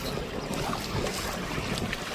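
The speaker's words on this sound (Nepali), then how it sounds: "यति चिसो हावा सिरिरी हावा छ।" A cool breeze blows across a green hillside, a steady rushing wind that buffets the microphone with continuous broadband noise and no voices.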